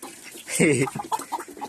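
Free-range country hens cluck close by in quick, short bursts while feeding, one louder squawk rising early, then a run of rapid clucks.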